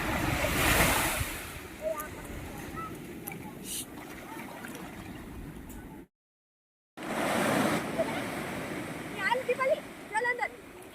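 Sea waves wash steadily onto the shore at Bhavani beach, with heavy wind buffeting the microphone and faint voices in the background; the sound drops out completely for a moment partway through.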